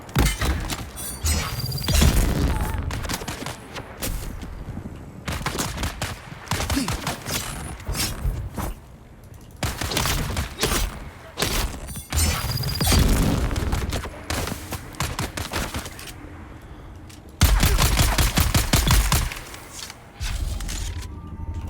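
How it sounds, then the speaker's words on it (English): Grenade explosions pile up in a firefight in the video game Dune Awakening, with dense, loud booms and crackling blasts arriving in rapid bursts, nearly continuous, and a few brief quieter gaps between salvos. "all you do is get fucking grenade spammed"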